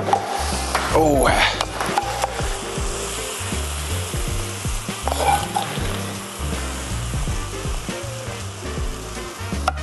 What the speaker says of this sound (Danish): Så skal I bare se, sådan ved at koge dejligt tyk og lækker.